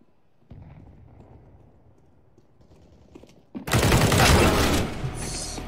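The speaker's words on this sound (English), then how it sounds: "Throwing a grenade." In CS:GO, quiet scattered shots and movement give way to a sudden loud grenade blast, its roar sustained and close, with crackling gunfire mixed into the tail.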